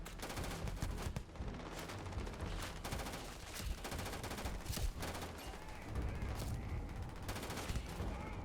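Dense bursts of gunfire in the space game Starfield, rapid volleys and sharp cracks layered over each other throughout, loud and busy with no one speaking.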